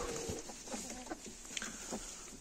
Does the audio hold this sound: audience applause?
no